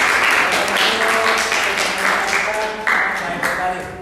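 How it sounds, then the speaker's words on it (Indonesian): Audience applause following a class presentation, a sustained, fairly loud wash of clapping with voices talking over it, the crowd noise steady and close throughout. "Silakan berikan aplaus"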